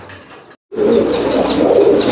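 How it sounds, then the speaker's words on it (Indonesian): Kolong pigeons coo nearby, soft low rounded calls repeating in a steady rolling rhythm after a brief gap of silence, with a few higher chirps above. "Nah ini merpati kolong, jantannya merpati kolong, betinanya merpati balap."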